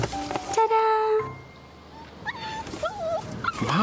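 A small puppy whimpers and yips in short, high, wavering cries, close by, with people talking around it.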